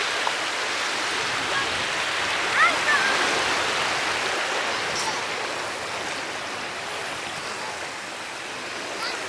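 Waves wash onto a beach at sunset in a steady, broad roar of surf that stays even and fairly loud throughout, with no distinct breaks between waves.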